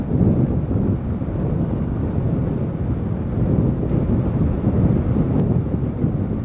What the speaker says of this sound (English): Woo, boy, the wind's picking up.